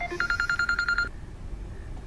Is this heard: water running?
no